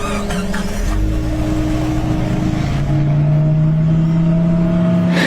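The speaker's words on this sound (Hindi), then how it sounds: "और गाड़ी अपने आप स्टार्ट हो जाती है।" Animated horror story car engine turning over by itself and revving, a steady loud motor drone that rises in pitch partway through and holds, no talk over it.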